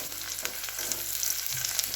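Potatoes for a curry fry quietly in a pan, a soft steady sizzle with faint stirring scrapes close by and no voices.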